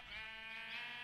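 A sheep bleats once in the Minecraft video game, a single drawn-out nasal bleat heard alone and fairly faint.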